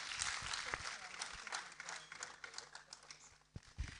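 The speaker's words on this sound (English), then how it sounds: "Let's applaud him whilst he takes his seat." Scattered applause from a conference audience at an international postgraduate studies event continues at a moderate level, with uneven individual claps and some crowd murmur underneath.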